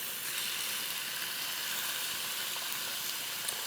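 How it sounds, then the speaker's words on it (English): A steady, bright sizzle of chicken frying in a hot pan, continuous and even throughout with no talking. "Oh, the sizzle."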